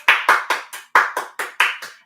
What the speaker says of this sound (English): Let's finish off with a nice round of applause.